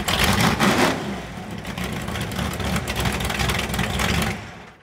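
A tube-frame chassis car's engine revs hard and loud nearby, a continuous roaring, rasping drone that rises and falls slightly before dropping away at the end.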